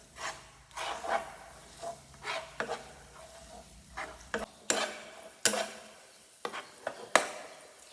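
Pork filling with garlic, pepper and coriander root is stir-fried in a pan for sago dumplings, repeated scraping spatula strokes and clanks over a sizzling hiss, close and rhythmic.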